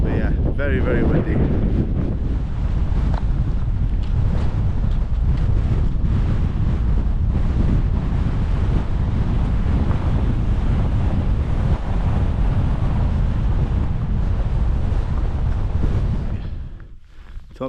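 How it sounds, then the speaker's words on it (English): Strong, steady wind on a Scottish mountain in November buffets the microphone in a continuous roar, with surf-like rushing underneath, easing off only in the last second. "Very, very windy."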